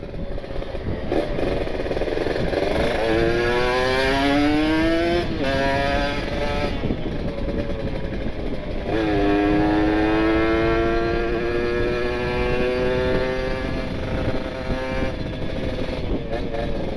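An RR motorcycle at full throttle on a test ride on a busy road gives a loud, steady engine roar with rising pitch sweeps as it accelerates, and someone talks over it.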